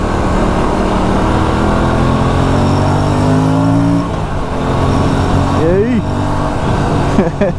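Aprilia sportsbike with an engine of around 46 bhp accelerating, a loud continuous engine drone whose pitch climbs and then drops as gears shift, heard close with wind noise throughout.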